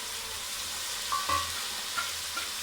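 Vegetable rice with peas sautés in a pot, giving a soft continuous sizzle with a few faint scrapes of stirring, quiet and close, with no voices.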